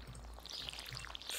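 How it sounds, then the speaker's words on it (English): Watering cauliflower crops in the farming game Stardew Valley, a soft continuous pouring splash with faint droplet sparkle, quiet and close, lasting just over a second with no talk. "let's water our new cauliflower"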